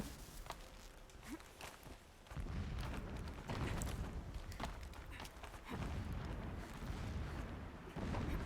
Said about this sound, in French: Des explosions au loin.